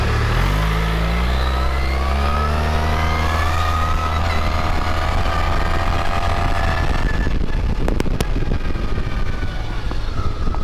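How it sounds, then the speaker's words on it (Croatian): Suzuki Burgman 650 scooter engine running loud and close, its pitch rising and sweeping as it passes by with a whistling tone, then fading into broadband road noise. "Evo sad ćete imati priliku čuti kako zvuči mašina"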